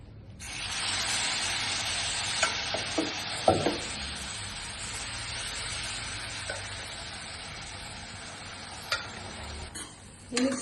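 Boiled chickpeas being stirred and sautéed in a pan with chole masala and chili powder: a steady sizzling hiss with scattered scraping taps of a spatula, close and moderately loud, no talking.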